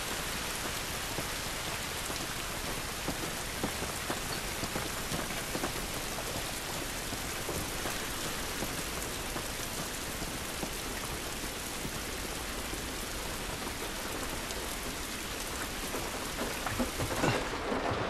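Steady rain pouring outdoors in the video game The Last of Us, a dense, even wash of droplets on surfaces holding constant for the whole stretch with no voices.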